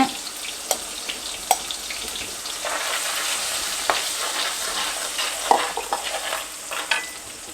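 Ginger and garlic frying in oil for mutton pepper fry, a continuous crackling sizzle with frequent spatula stirring clicks and scrapes, close and fairly loud.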